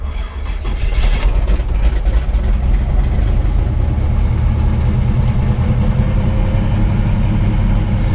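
A 1965 Chevrolet Malibu SS engine with electric exhaust cutouts cranks and fires up, then settles into a loud, steady rumbling idle close by.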